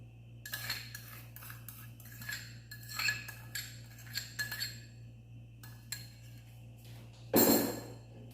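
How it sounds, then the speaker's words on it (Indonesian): Sugar is stirred with a spoon into a pineapple mixture in a bowl while making ongol-ongol, giving close repeated scraping clinks against the bowl in a steady rhythm, ending with one louder clatter near the close. "Kita aduk sampai gula pasirnya merata."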